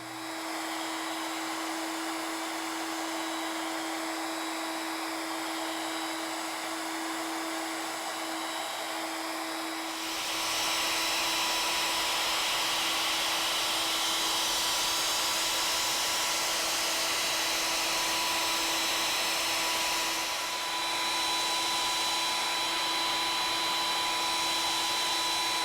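A ShopSabre CNC router machines a 3D surface on a banjo neck, a steady high whine with a constant tone. Midway it jumps into a louder, rougher cutting roar, with a short dip near the end.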